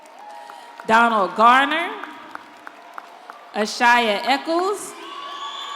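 A graduation crowd in a large hall whoops and cheers in two bursts, with applause beneath, between names read over a loudspeaker.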